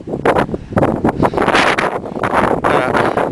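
Strong wind buffets a microphone outdoors beside a camping car, loud irregular gusts that swell and drop in rough bursts with a rustling roar.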